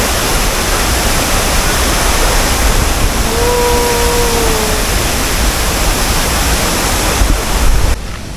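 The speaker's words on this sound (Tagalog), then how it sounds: "Yun ang Tinago Falls." Tinago Falls, a waterfall in Biliran, roars as a loud, steady, broadband wash of falling water that fills the scene, with a brief faint tonal whistle partway through.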